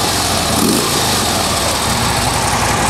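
A Harley-Davidson Street Glide Special FLHXS motorcycle with its stock factory exhaust runs close by, a loud, steady, rumbling engine note held throughout without any talking.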